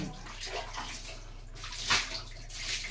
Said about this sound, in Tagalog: buhos tayo, buhos. Tubig, ayan.